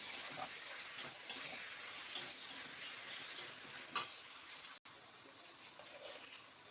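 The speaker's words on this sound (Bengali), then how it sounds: "ভালো করে নেড়ে নেব।" Bottle gourd and prawns sizzle in a pan with chilli powder, salt and sauce while a utensil stirs through them, giving steady frying hiss with soft scraping strokes and a brief dropout.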